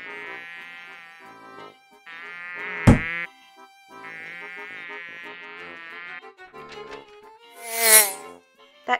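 Cartoon mosquito buzz in an animated children's picture book, a thin whining drone that rises and falls in several passes over music-like tones, ending in a sharp high flourish.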